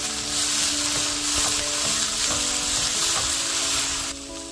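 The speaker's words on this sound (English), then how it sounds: "Saute it well." Chicken curry with salt and cilantro sautés in a pan, a loud continuous close sizzle and crackle with rhythmic stirring, easing slightly at the end, no talk.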